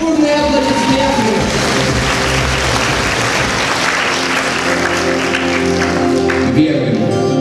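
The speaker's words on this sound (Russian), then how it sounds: "ваши бурные аплодисменты!" Enthusiastic applause from a concert-hall audience at a dance and vocal ensemble performance fills the space, loud and sustained for several seconds, with music and a voice faintly underneath.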